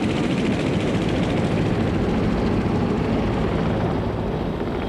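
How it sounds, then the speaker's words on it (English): South Vietnamese helicopters arriving at evacuation ships, a loud, continuous rotor and engine roar with a dense rumbling drone that holds steady throughout, no voices. "Scores of South Vietnamese helicopters appeared, commandeered by pilots and soldiers"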